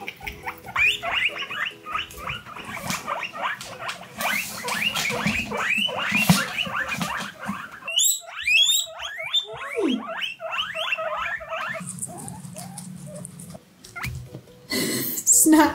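Several guinea pigs squeak, chirp and wheek at close range while cucumber is handed out, with quick bursts of high calls, soft chewing noises and a person speaking briefly.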